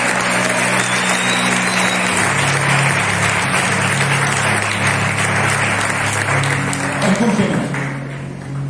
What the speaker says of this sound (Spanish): Aplaudo a Jesús de Nazaret.